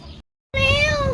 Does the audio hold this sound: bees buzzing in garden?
no